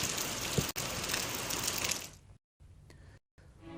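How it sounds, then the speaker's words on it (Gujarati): Heavy rain lashes down in a dense, loud hiss during a storm with strong wind in Gujarat, then cuts in and out in short quieter bursts near the end. "ભારે પવન સાથેનો આ વરસાદ જોવા મળી રહ્યો છે"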